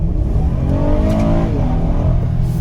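Honda Odyssey minivan with a VTEC engine accelerates from inside the cabin, a steady, loud rising engine drone with harmonics climbing in pitch over about three seconds, no talk.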